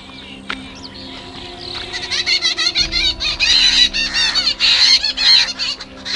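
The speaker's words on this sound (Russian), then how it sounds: "птицы, птицы." Fowl near an irrigation canal honk and cackle in loud, overlapping bursts, a goose-like chorus that swells and grows busier over several seconds.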